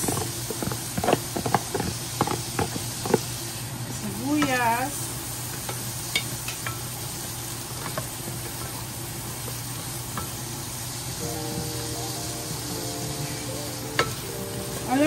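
Chopped onions sauté in a saucepan for creamy clam chowder, a steady close sizzle with repeated spoon scrapes and stirring clatter, while someone talks softly in the background.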